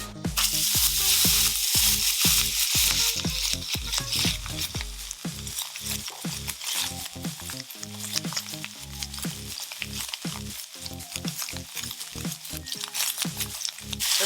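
Beef sears in a preheated pan for a steak sandwich, giving a loud, continuous sizzle and crackle with dense popping spatters that stay steady the whole time, with no talking over it.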